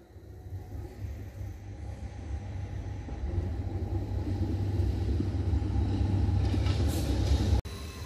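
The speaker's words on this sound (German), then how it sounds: "Und da fährt ja die Straßenbahn direkt dran vorbei." A tram in Innsbruck runs right past the lakeside near Lanser See, a steady rolling rumble that swells gradually as it approaches, loud and continuous, ending in a sharp click.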